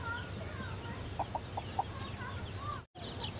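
Several chickens cluck softly in short, scattered bursts, with a few quick clucks close by over a steady outdoor background.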